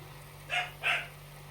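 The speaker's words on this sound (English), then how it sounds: "My dog is barking." A pet dog barks twice in a home kitchen, two short moderately loud barks about a third of a second apart, heard over a steady low hum with no talking.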